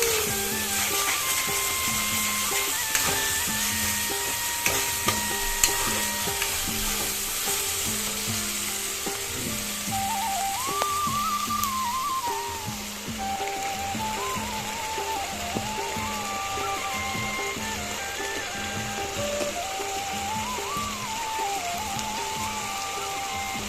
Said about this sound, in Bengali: এবার ভালোভাবে মশলাটাকে কষিয়ে নেব।